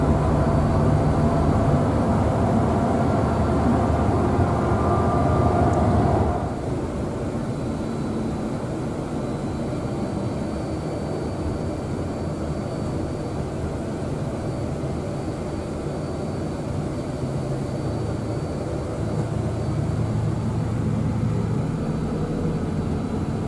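Steady low engine drone and road rumble on the lower deck of a moving Sinar Jaya double-decker bus, loud at first then dropping slightly and continuing evenly throughout.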